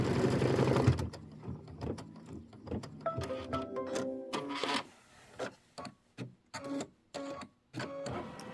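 A sewing machine stitches a quilt tack-down in short bursts, starting and stopping repeatedly, close up and fairly quiet.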